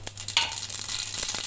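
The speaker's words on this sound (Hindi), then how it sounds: "अब लगाते हैं हम इसका तड़का। अब हम डालेंगे पहले राई," Mustard seeds sizzling in hot oil while tempering sambar, a bright crackling sizzle with scattered pops and a stirring clatter, close and fairly loud, with a low steady hum underneath.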